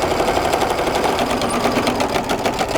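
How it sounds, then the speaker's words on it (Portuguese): A sewing machine stitches bias binding onto a fabric placemat, running steadily and close with a fast, even mechanical whir throughout and nothing else over it. "E vamos para a máquina passar uma costura aqui."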